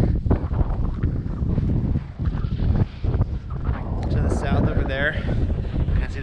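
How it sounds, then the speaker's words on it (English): Gusty wind buffets the microphone in low rumbling bursts on a hilltop summit, with people talking now and then underneath. "A little windy up here."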